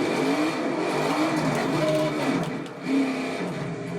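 A race car in a racing video game reverses out of a sand trap at Mid-Ohio. The engine gives a steady whining drone with small pitch swells as it backs up, and there is no voice.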